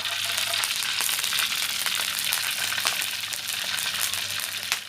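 Pork intestines deep-frying in a hot pan of oil, a dense, steady sizzle and crackle that stays loud and close throughout with no talking.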